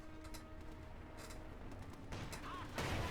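Machine gun fire in a Company of Heroes 2 battle crackles in scattered bursts under a low rumble of battlefield noise, growing louder and denser toward the end.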